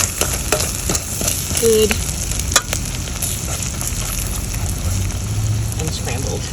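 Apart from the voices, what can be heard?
egg frying in a pan for fried rice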